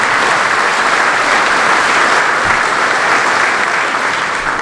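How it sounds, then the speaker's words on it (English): Sustained applause from a dinner crowd at an Obion County Republican Party Reagan Dinner, a dense, even wash of clapping that carries loudly throughout and eases slightly at the end. "let's give John McMahon and the Obion County Republican Party a big hand for this great event tonight"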